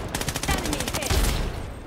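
Rapid M4 rifle fire in the shooter game Blood Strike, close and loud bursts of rattling shots in quick rhythm, with a heavier thump midway and game voice lines faintly mixed in.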